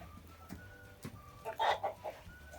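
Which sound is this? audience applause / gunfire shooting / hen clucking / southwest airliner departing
hen clucking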